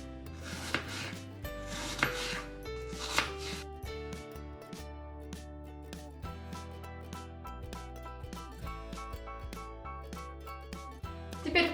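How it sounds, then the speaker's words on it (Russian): Apples being chopped into small cubes just under a centimetre on a cutting board, a steady run of quick knife knocks heard close up beneath continuous background music. "Обычно я нарезаю яблоки на кубики толщиной где-то чуть меньше 1 сантиметра."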